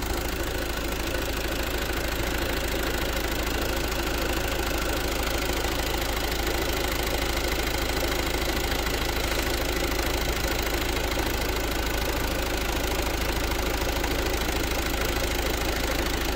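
A Renault Scenic 2 engine idles steadily after being started, a constant loud mechanical drone with a fine ticking texture that stays even throughout, with no voices.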